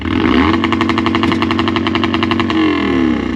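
A loud 351 Cleveland V8 engine in a 1973 Ford XA GT idles and revs with a steady throbbing pulse, rising briefly then settling, close up and running continuously.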